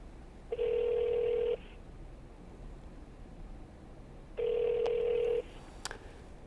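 A telephone rings twice, each electronic ring lasting about a second and separated by a long pause, set against a faint background hiss.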